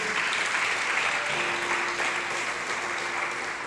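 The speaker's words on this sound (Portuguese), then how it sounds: "Dá um aplauso ao Senhor aí." Steady, dense applause from a church congregation fills the room for several seconds, a broad even clatter of many hands with no pauses.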